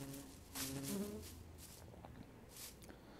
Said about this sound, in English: Bees, excuse me. Could you go ahead and be done, please?